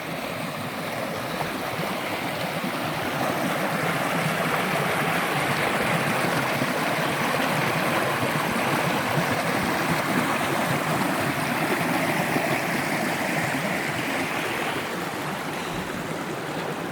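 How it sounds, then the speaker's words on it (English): Steady rushing water pours continuously, a small waterfall on a moorland river on Dartmoor, its constant splashing roar heard close by with no other sounds. "It's a lovely waterfall"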